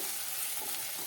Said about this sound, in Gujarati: અને સારી રીતે મિક્સ કરી દઈશું.